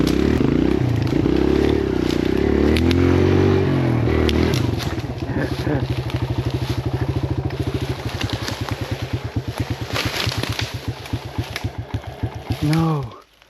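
A Kawasaki KLX 140L dirt bike engine while riding, loud and close, shifting from rough throttle roar to a steady pulsing chug, then dropping off abruptly at the end; a rider speaks over it.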